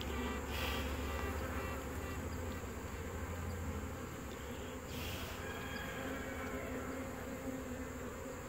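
Bees hum steadily over a hive frame as a mated queen takes off, a dense, close swarm drone that holds even throughout, with a couple of faint brief knocks.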